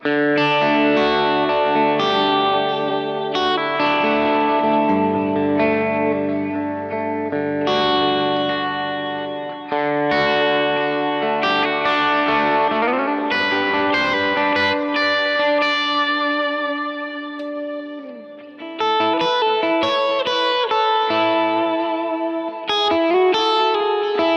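An electric guitar played through a Kemper plays sustained chords and melodic lines with a mildly driven, cleaner low-gain tone, soaked in delay and reverb, continuous throughout.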